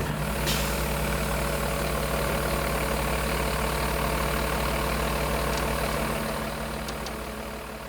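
A truck engine idles steadily with a low, constant rumble, close by, easing slightly quieter near the end.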